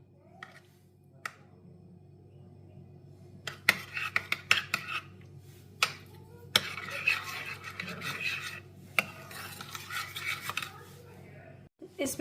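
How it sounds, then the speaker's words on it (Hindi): A spoon clinks and scrapes against a bowl while ketchup is mixed into a homemade Albaik-style cocktail sauce, giving irregular, close taps and scrapes over a quiet kitchen background. "2 टेबलस्पून के करीब केचप जाएगी, और इसको हम अच्छी तरह से मिक्स कर लेते हैं।"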